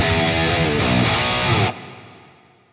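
An electric guitar chord plays through a Fortin Nameless Suite X amp sim pedal with reverb blended in, loud and heavily distorted, then cuts off into a reverb tail that fades away slowly.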